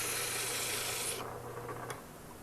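A wood-turned ring piece is sanded with a close, steady scratchy rasp that stops after about a second, leaving a quieter hiss.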